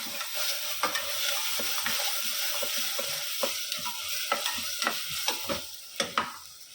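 Dal palak with potato and garlic-chilli paste being stirred in a sizzling pan, steady frying hiss with repeated close spoon scrapes and knocks against the pan, growing sharper toward the end.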